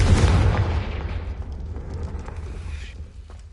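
The Confringo blasting spell from the Hogwarts Legacy video game explodes in a single loud boom, which then fades into a rumbling decay over a few seconds, with no talking.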